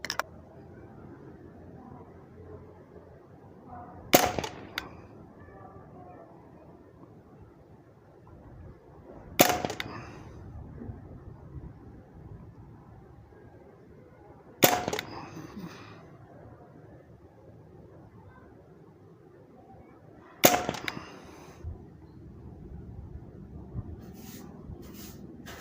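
A Hatsan Barrage semi-automatic PCP air rifle fires BSA Fury 18.5-grain pellets. Four sharp, crisp shots ring out alone at even intervals about five seconds apart, over a quiet background.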